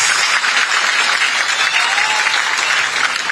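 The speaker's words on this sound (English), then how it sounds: "Ladies and gentlemen, a louder hand clap for mamas" A crowd at a teachers' award ceremony applauding loudly, dense steady clapping from many hands that holds at full strength throughout.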